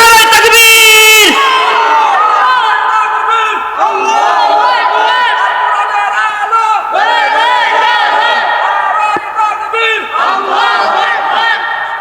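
A large crowd shouts a loud, sustained takbir in unison in answer to a preacher at an Islamic sermon gathering, voices swelling and dropping in several waves for about twelve seconds.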